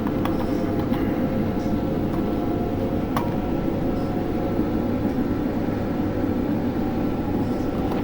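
An Amtrak AEM-7 electric locomotive pulls away on a Northeast Regional run in Train Simulator 2020, a steady low rumble and drone of rolling stock with faint clicks and clanks from the rails, continuous and unbroken.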